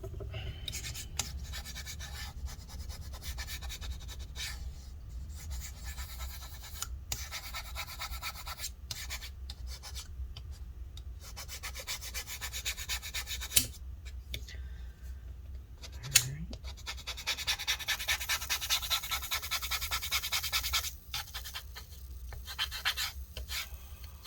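Rubbing adhesive residue off the trackpad area of a 2020 13-inch MacBook Pro A2338, a steady close scratchy friction running throughout with brief pauses and a denser burst near the end.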